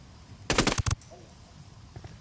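A short, loud burst of rapid automatic gunfire in the video game Ghost Recon Wildlands cuts off after about half a second, followed by fainter scattered sounds.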